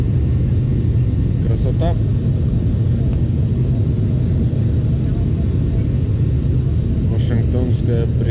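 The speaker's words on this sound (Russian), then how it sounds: "Вот и задние сейчас оторвутся. Все. Пошли на взлет." An airliner taking off from Seattle, its rear wheels lifting off the runway, heard from inside the cabin as a loud, steady low engine rumble that continues throughout while a passenger talks over it.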